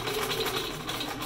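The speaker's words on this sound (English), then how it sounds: "sew all the way around and remove the clips as we go" A sewing machine stitches a vinyl sign into a tote bag on a long straight stitch, humming as a steady, fast, close mechanical whir.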